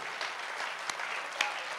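Audience applause at a Hindi poetry recital (kavi sammelan), a steady dense wash of clapping from a crowd with a couple of sharper single claps standing out, no talk over it.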